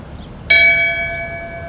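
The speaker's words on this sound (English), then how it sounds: "Would you please ring the bell in tribute and in memory for retired Deputy John Robb?" A single memorial bell rung in tribute to a retired sheriff's deputy, one clear struck tone that rings on and slowly decays in a quiet room.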